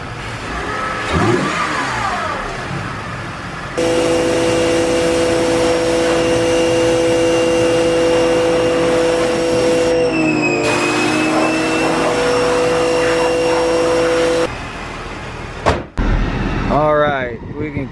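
A BMW E46 car engine cranks, catches and runs with a steady drone and whining tones, revving briefly, while a voice talks over it.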